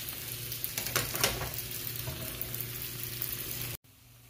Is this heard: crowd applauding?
no